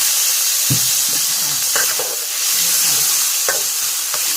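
Food dry-roasting and stir-frying in a pan, a loud continuous sizzle close by punctuated by several scraping, clattering strokes of the utensil, with no speech.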